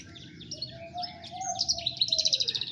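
A songbird, a murai (magpie-robin) kept beside a master bird, gives bright chirps and whistles that build into a rapid, loud run of repeated notes, close and clear over faint background noise.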